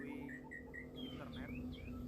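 A white-rumped shama sings a series of short, clear whistled notes followed by rising and falling chirps, faint against a steady low electrical hum.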